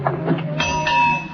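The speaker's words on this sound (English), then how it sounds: "Where's that ship's bell?" A ship's bell rings in a few bright metallic strikes with ringing overtones, fairly close and clear, following a lower thud or two at the start.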